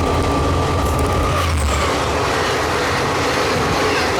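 The Mysuru–Talaguppa Intercity Express runs along the track with a loud, steady rumble and rattle of wagons, a low drone fading after the first seconds and a faint wheel squeal, heard close from on board.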